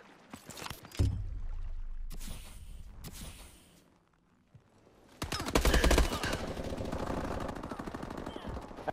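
Rapid automatic gunfire in a first-person shooter video game, loud dense bursts of crackling shots, with a short quiet gap before a long sustained burst.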